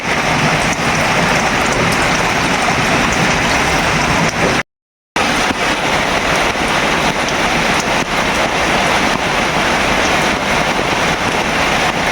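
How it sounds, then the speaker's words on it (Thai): Heavy rain pours steadily and loudly outdoors, a dense continuous hiss of drops on surfaces with a brief dropout near the middle. "ฝนตก"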